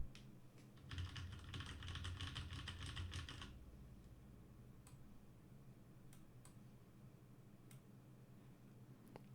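A computer keyboard is typed on in a rapid, close burst of clicking for about three seconds. A few isolated key clicks follow in a quiet room.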